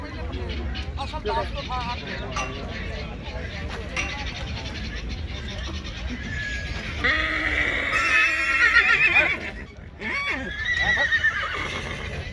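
Horses whinny and neigh at the Maghi livestock fair in Sri Muktsar Sahib, Punjab, a loud drawn-out call in the middle, amid a busy crowd with people talking nearby.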